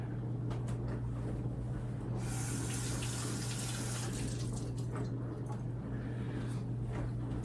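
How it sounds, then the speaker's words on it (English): Cold tap water runs steadily over onions in a kitchen sink, a constant soft rush with a stronger splash midway as the onions pass under the stream. "if you run it under cold water, then it won't be as bad"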